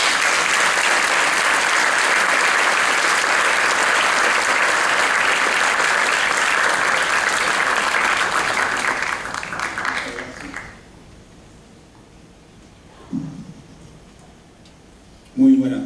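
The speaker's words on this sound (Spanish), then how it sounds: "para que envíe un aplauso, por favor." Sustained audience applause at a law book presentation, a dense, loud wash of clapping for about ten seconds that dies away into near quiet, followed by a couple of brief knocks.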